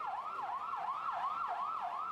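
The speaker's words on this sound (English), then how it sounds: "Streams of ambulances came to carry away the dead and the injured." Wailing ambulance siren cycling steadily up and down about every third of a second, loud and continuous with no other sounds, in the aftermath of a deadly attack on a crowded market.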